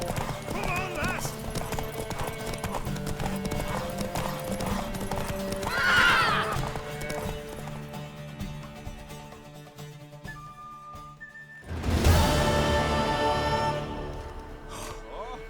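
A mare gallops with rapid clip-clopping hooves and neighs loudly in The Witcher 3: Wild Hunt, under steady music, with a sharp whinny bursting out near the end.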